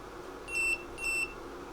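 An electronic buzzer on an ESP32 board gives two short, high beeps about half a second apart, faint over a steady background hum.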